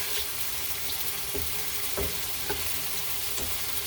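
Skipjack (aku) tuna sears in a hot pan, producing a dense, steady close sizzle with a few soft pops and clicks and no speech.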